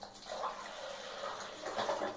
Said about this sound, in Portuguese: Você coloca primeiro os 300 ml de água.